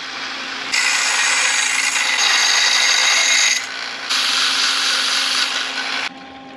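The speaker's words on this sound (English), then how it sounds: "Let's see if I can straighten out this mess with a belt sander." A belt sander grinds down rough welded metal in two loud, sustained runs separated by a short pause, each a harsh, steady abrasive whine that cuts off abruptly.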